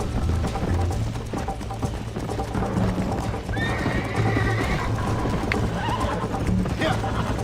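A horse in Red Dead Redemption 2 neighs and whinnies while steady hooves clip-clop throughout, the whinny rising clearly partway through over a continuous low game soundscape.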